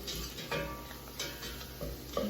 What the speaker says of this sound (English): now that our aromatics have sauteed in this butter